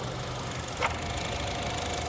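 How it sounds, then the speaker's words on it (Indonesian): A 2017 Honda Brio E Satya car engine idles with a steady, low mechanical hum and light knocking, and a brief click sounds about midway through. "nah ini posisi mesin hidup ya"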